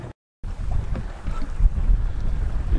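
A sailboat under sail, with wind buffeting the microphone and water rushing against the hull, a continuous close rumble and hiss after a brief dropout.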